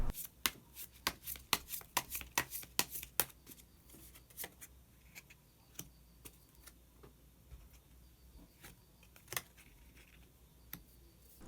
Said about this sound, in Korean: 그럼 마지막으로 히든 카드 한 장 더 뽑아보도록 하겠습니다.